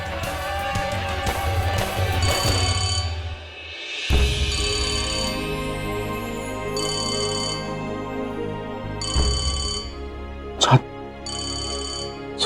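A telephone rings in repeated short bursts during a Hindi television drama scene, fairly loud over steady background music.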